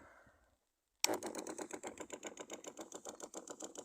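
A motorized garden sprayer with a second nozzle fitted starts abruptly after a short silence and runs in a fast, rhythmic pulsing chug, loud and steady, with no voices.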